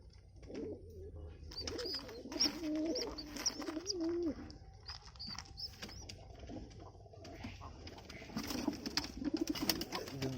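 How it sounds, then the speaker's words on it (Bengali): Soft cooing of young pigeons murmurs steadily in the background, mixed with faint chirps and light rustling, no voices. "খুব সুন্দর কবুতর বাচ্চাগুলো।"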